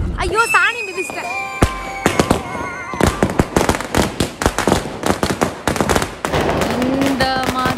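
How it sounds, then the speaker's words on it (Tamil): Diwali firecrackers burst in a rapid, loud series of sharp cracks and bangs, some whistling or fizzing sounds mixed in, with people's voices and shouting heard among the explosions. "இந்த மாதிரி சின்ன பட்டாசு டப்பாசெல்லாம் நம்ம வெடிக்கிறது இல்லை"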